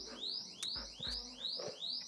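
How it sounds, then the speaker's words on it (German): A Bambu Lab H2D 3D printer sounds its alarm as a rapid series of about five rising electronic chirps, fairly quiet, mixed with a few soft low thumps and no talking. "Alarm!"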